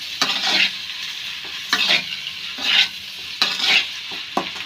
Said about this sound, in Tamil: அப்புறம் பாயில் பண்ணி வச்சுருந்த பாஸ்தாவை போட்டு மிக்ஸ் பண்ணுங்க